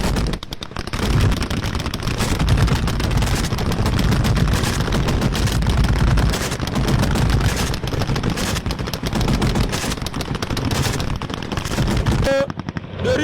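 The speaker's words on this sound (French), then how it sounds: "vous entendez le coup de feu" Sustained bursts of rapid automatic gunfire crackle continuously, loud and dense, with a few heavier reports near the end, during a Malian army offensive.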